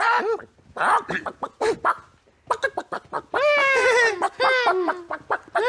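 A person imitates a chicken clucking, a rising and falling run of squawky vocal clucks in a children's decorating show, loud and close, mixed with other speech.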